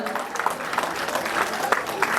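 Audience applause at a Bollywood red carpet premiere event, a dense patter of clapping from a crowd with some voices mixed in, steady and moderately close.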